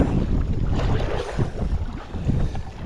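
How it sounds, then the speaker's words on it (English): Strong wind gusts across open water beside a kayak, roaring and buffeting the microphone in a continuous rumble that dips briefly and then swells again. "Awful windy, so it could come in fast"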